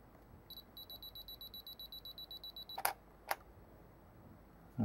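DSLR camera fired by an Amazon Basics wireless remote: a run of quiet, evenly spaced electronic beeps, then two sharp shutter clicks about half a second apart, faint and close.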